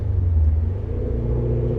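A 2000 BMW E39 M5 with its roughly 400-horsepower naturally aspirated V8 rumbles steadily through the exhaust, a loud close low drone holding even with no talk.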